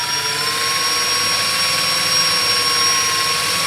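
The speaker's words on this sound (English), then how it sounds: "I like to use a cobalt tip drill" A cobalt-tipped drill bit, already dulled from earlier fasteners, bores into a fastener on a 2015-2017 Yamaha YZF-R1 during an Arrow Competition exhaust install, giving a loud, steady high-pitched whine that holds unbroken throughout.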